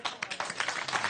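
A studio audience claps for chef Stéphane Furlon during a French cooking segment, a short burst of steady applause heard fairly close and moderately loud, with no voices over it.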